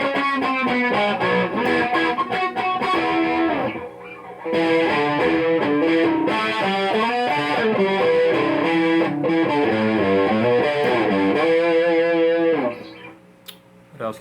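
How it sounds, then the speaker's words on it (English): Electric guitar with a P90 pickup run through a chorus effect, playing a continuous melodic riff with a lightly distorted, shimmering tone for most of the clip before fading out near the end. "pretty cool guitar, huh? Yeah, with the chorus effect,"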